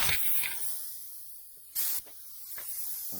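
Spray gun misting primer onto a 1978 Dodge Aspen R/T in short hissing bursts, with one loud, close blast near the middle and a softer puff toward the end, over a quiet background.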